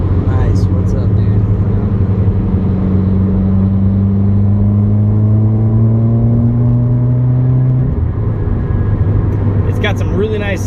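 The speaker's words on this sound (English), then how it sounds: "Got some really nice, you know, backfire to it." A 2016 Subaru WRX with a Grimmspeed catted J-pipe and Greddy SP exhaust revs up in a rising, droning exhaust note for several seconds, then drops off abruptly, followed by a few sharp popping crackles near the end.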